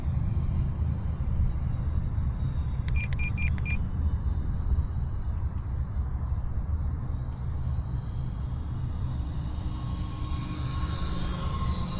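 An E-flite F-14 Tomcat RC jet with twin 40mm electric ducted fans runs at 60% throttle close by, a steady rushing roar whose high whine swells toward the end.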